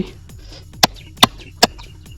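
A coconut kernel is cracked open on stone, three crisp knocks in quick, even succession, close and clear against a quiet background.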